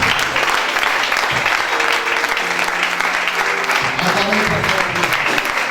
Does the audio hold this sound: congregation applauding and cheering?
yes